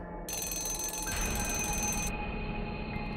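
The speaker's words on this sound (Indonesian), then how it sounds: "terdengar suara telepon berdering." A telephone rings with a harsh, continuous electronic bell for about two seconds, then cuts off, leaving a lingering tone and room noise.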